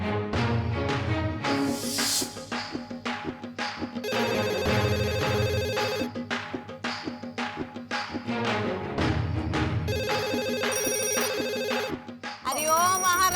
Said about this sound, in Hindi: सुना नहीं देता क्या फोन?